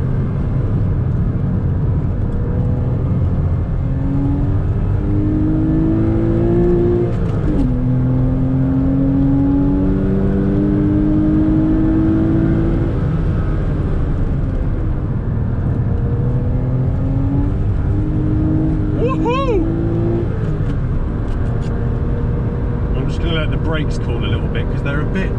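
A Porsche Boxster S on a race track, braking hard and downshifting into second: a loud sustained engine drone whose pitch sweeps up and down under engine braking, with a quick rev blip near the end and a voice talking over it.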